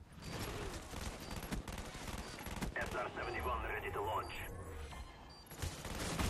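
Rapid bursts of gunfire in Call of Duty: Black Ops as a player shoots at a jammer, dense repeated shots running nearly throughout with game effects and chatter mixed beneath.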